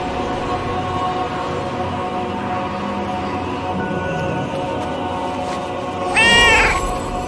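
A cat gives one short meow near the end, heard close over a steady background of video game music and effects that fills the rest of the clip.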